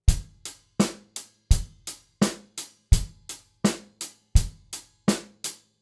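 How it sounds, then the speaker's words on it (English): Basic rock drum groove on a kit: steady eighth-note hi-hat, kick on beats one and three, snare on two and four, played alone, close and clean for several bars. "The bulk of this is just the basic rock groove."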